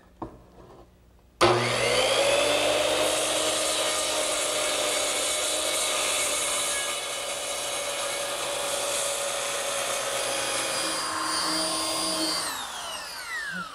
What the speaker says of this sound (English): Now I'm just going to take a circular saw and trim the angles